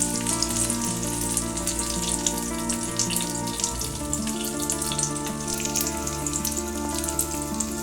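Gourd-leaf pathuri frying in hot oil, a steady broadband sizzle with crackle running the whole time, close up, under a sustained background of musical tones.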